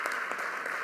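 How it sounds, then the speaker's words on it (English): An audience at a school district event claps steadily, giving dense, sustained applause throughout this brief moment. "Let's give them one more round of applause, please."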